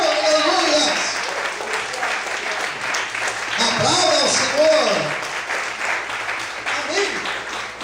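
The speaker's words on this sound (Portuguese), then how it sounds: "Aplauda ao Senhor." Church congregation applauding the Lord during a worship service, a broad mid-loud wash of clapping with a voice speaking and calling out over it, swelling again in the middle.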